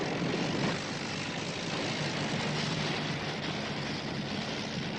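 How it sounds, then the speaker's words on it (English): A steady propeller aircraft engine drone, loud and continuous, with a broad roar that holds level throughout. "The engine fires and the plane begins to roll with Rambo galloping alongside it"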